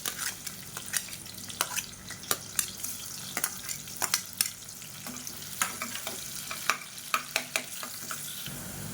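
Sliced onion sizzles in hot oil in a pan while being stirred for a Tamil biryani, a steady frying hiss broken by frequent sharp clinks and scrapes of the spoon, with no talk.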